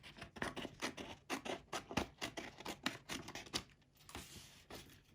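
Victorinox Classic Swiss Army Knife's small scissors snipping across a corner: a quick run of close, crisp cuts in steady rhythm, then a few softer, slower snips at the end.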